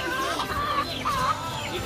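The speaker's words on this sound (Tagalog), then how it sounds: "Oh, halo-halo ng manok." Several chickens, mostly roosters, cluck and squawk nearby in a busy, overlapping chorus with a steady farmyard hum.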